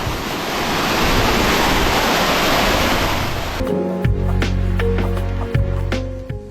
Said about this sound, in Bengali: ঝর্ণা দেখার আসল সৌন্দর্য কিন্তু এই বর্ষাকালে, ভরা মৌসুম বর্ষাকাল যেটাকে বলে